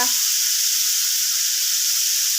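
Chinese kale and pork belly stir-frying in a hot pan, a loud continuous hiss and sizzle that stays even throughout, with no talking.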